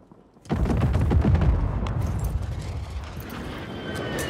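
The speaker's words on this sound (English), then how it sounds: "Friendly precision airstrike inbound." Precision airstrike in a Call of Duty match at Fortune's Keep, landing as a sudden heavy blast followed by rolling, rumbling explosions that fade slowly, loud and with no talk over them.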